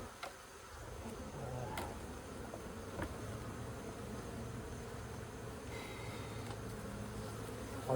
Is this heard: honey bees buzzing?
yes